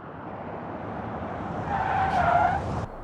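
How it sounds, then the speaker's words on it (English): A Segra Ultimat Swedish truck in the BeamNG driving game produces a steady engine and road roar that rises partway through, with a brief tire skid or squeal near the end. There is no talk. "And our next contender is the Segra Ultimat, the Swedish truck."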